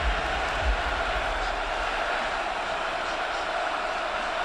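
Steady roar of a hostile stadium crowd at a Maryland at Texas college football game, a continuous wash of noise with a commentator talking over it.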